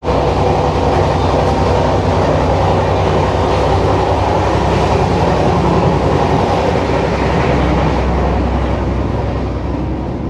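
The Kandari Express 22897 runs on the rail from Howrah toward Digha. From inside a coach it gives a loud, continuous rumble with rolling wheel noise, steady for the whole stretch.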